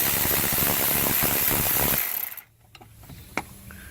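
Ratchet turning a bolt on an electric brake pump bracket during a car tune-up, a dense rapid clicking for about two seconds that stops abruptly, followed by a quiet workshop with a few faint knocks and a brief clink.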